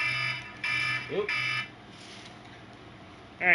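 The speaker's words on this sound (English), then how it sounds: "that's the alarm that I should be waking up to right now" A repeating electronic alarm rings in bursts during a Minecraft server stream, its pulses cutting in and out while a voice talks over it.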